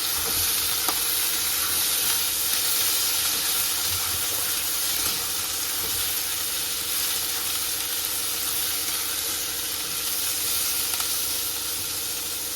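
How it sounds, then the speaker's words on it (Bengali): Vegetables sauté in hot oil for chow mein, giving a loud, steady sizzle and hiss that runs unbroken throughout with faint stirring scrapes and no voices. "আর ভেজিটেবলগুলো একটু হালকা সটে করে নেবো তেলের উপরে"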